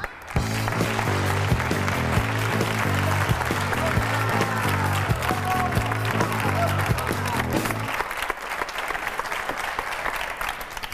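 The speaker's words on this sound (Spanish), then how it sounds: "Un aplauso para Usun Yun" A studio audience at a Spanish late-night TV comedy show applauds loudly and steadily for about eight seconds under a musical sting, then the clapping drops away to quieter room noise.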